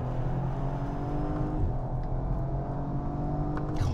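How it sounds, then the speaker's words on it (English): An Audi RS5 Sportback engine runs with a steady, throaty drone from inside or near the car, holding a constant level with no talk over it. "let's just listen to that engine"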